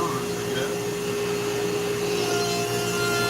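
A Dremel rotary tool carves a wooden bald eagle head, giving a steady high whine with a constant tone across the whole stretch. Faint voices sit low beneath it.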